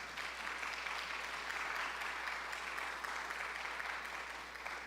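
Steady, dense applause from an audience at a church book concert welcoming a pastor to the stage, sustained and even throughout with no voices over it.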